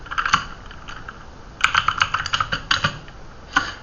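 Close-up typing on a computer keyboard: a quick burst of keystrokes, a brief pause, then a longer run of crisp, rapid clicks ending in a final tap.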